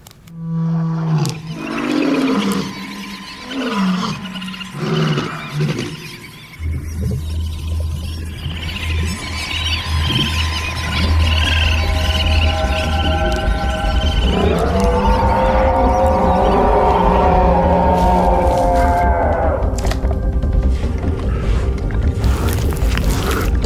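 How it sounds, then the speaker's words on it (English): Grotesque video game creature sounds of a rat transformation in Parasite Eve: wet squelches and snarling growls build into a deep roaring rumble with shrieking, distorted tones layered over it. "One transformation scene involving a rat really stood out for its grotesque sound design."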